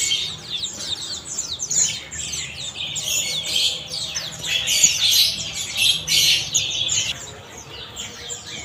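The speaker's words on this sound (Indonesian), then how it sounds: "Nah ini stok dari burung peleci bukso ya" Pleci white-eye birds, a stock of around forty, chirp and squawk in a bird shop, a busy overlapping chorus of high, rapid tweets that keeps on throughout at moderate volume.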